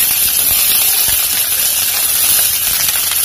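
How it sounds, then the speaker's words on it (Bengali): Sliced onions hitting hot oil in a pan for a shrimp curry, a loud, dense, close sizzling hiss that holds steady throughout with small crackles and no talk. "পেঁয়াজগুলো এর মধ্যে আমি দিয়ে দিলাম"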